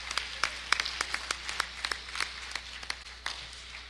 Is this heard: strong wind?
no